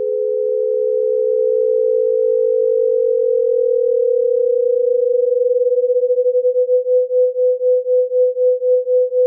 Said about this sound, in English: The pulsing effect you are hearing is called beating